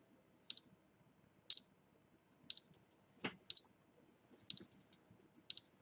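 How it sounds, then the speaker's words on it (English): A Nintendo Donkey Kong Junior Game & Watch Mini Classic alarm sounds alone as six short, bright beeps spaced about a second apart, with one soft click between them. "And that's the alarm going off."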